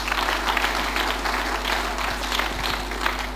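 Church congregation clapping hands together in steady, dense applause for a few seconds, filling the room under a low hum.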